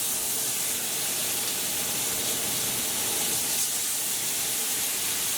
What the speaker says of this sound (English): And you want to hear that sizzle straight away.